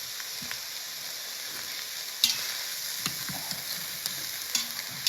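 Sausages and onions fry in a pan with a steady, quiet sizzle, broken by occasional soft scrapes and taps as the food is stirred and turned.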